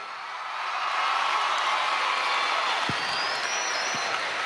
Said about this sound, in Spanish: Un aplauso para este muchacho.